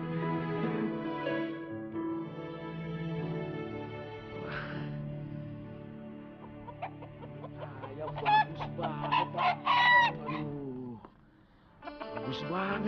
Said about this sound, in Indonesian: Bagus banget nih ayam nih, Pak.